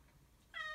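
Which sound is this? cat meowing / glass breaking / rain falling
cat meowing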